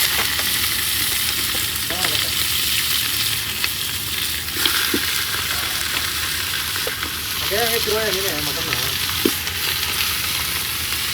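Onions frying in a pan for a mutton dish at a Sunday party, a steady broadband sizzle with occasional stirring clinks and faint short tonal squeaks, fairly loud and continuous with no talk.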